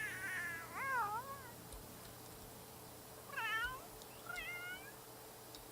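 A cat in The Sims 3 gives a drawn-out, wavering meow, then after a gap two shorter cries, all fairly quiet with no voices over them.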